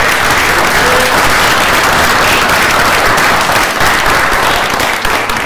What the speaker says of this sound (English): I would like to propose a round of applause for the road agent and his crew.